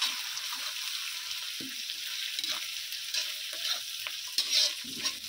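Garlic paste being stirred into golden fried onions in a pan, with a steady close sizzle of frying and irregular scraping stir strokes throughout, no voices.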